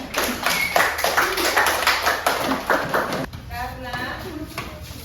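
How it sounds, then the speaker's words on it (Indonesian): Classroom audience claps for a student group returning to their seats during a teaching practice session, a busy patter of hands under a speaking voice, with the clapping thinning out toward the end. "Beri aplaus tepuk tangan untuk kelompok 3."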